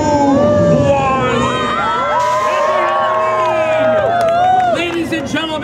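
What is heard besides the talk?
crowd screaming and cheering at Halloween Haunt show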